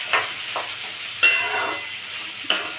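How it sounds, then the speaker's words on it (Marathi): Okra frying in hot oil in a pan, a steady close sizzle broken by three sharp stirring clinks spaced about a second apart. "भेंडी आपण खरपूस थोडी भाजून घेऊया।"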